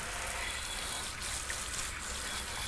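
Simulated rainstorm water sprays onto an SGM G1 Beam lighting fixture in a garage, giving a continuous loud hiss and splatter with small surges and no voices.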